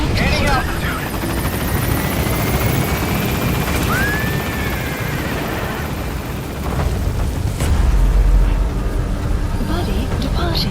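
The Pequod helicopter in Metal Gear Solid V takes off, its rotor thumping in a loud, steady drone that swells as it gains altitude, with radio voices and sharp in-game effects over the top.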